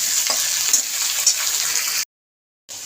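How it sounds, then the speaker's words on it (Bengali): Vegetables, including yard-long beans and eggplant, fry with salt and turmeric, making a steady close sizzle with a few scraping stir strokes for about two seconds, then a brief silence before the sizzle resumes. "দিয়ে এটাকে আমি নুন আর হলুদ দিয়ে ভালো করে এটাকে ভাজতে থাকবো।"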